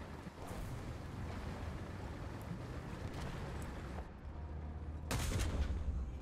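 Sustained gunfire rattles throughout a War Thunder tank match with the Ratel 20 armored vehicle, a dense, steady barrage with a louder burst near the end, continuous and fairly far off.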